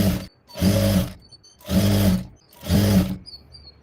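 A sewing machine stitches folded blouse cloth in three separate bursts of about a second each, with short quiet pauses between them, close and fairly loud.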